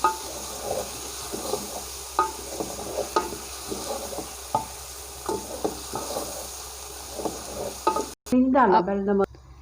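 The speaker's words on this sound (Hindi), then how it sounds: "अब हम इसके अंदर टमाटर डालेंगे। तो अच्छी तरह चम्मच से हिलाएंगे।" Tomatoes stirred with a spoon into frying ginger garlic paste for Punjabi karhi, with a steady sizzle and rhythmic scraping spoon taps, then an abrupt cut to a louder, harsher burst at the end.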